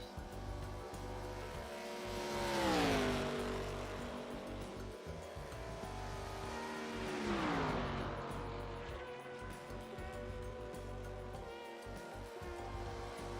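Race car on a qualifying lap at Kentucky in iRacing, a steady engine drone with two passes rising and falling in pitch as it swells nearer and fades, fairly faint throughout.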